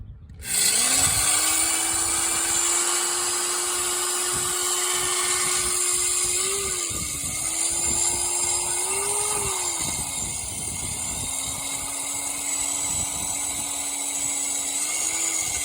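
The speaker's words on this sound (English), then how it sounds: "we're going to use an angle drill." An angle drill with a number 3 bit bores a hole to take a grease fitting, giving a steady, loud, high whine for about fifteen seconds. The pitch dips briefly a few times as the bit bites.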